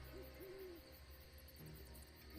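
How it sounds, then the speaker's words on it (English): A video game owl hoots from a tree, giving two or three soft, clear hoots over a quiet, low background. "Oh, it was an owl, not a kitten in the tree."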